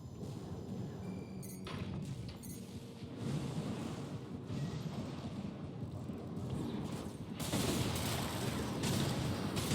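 Missiles and gunfire in the mech combat game Armored Core, heard as a dense, continuous barrage of thuds and blasts that swells louder near the end.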